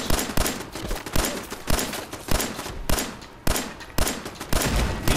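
Pistol gunfire in the video game Fallout 4: a steady string of loud, sharp shots fired about every half second, close and dominant.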